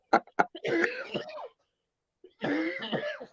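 Two sharp coughs ring out close, followed by rough, drawn-out throat clearing; after a short pause a second bout of raspy throat clearing follows.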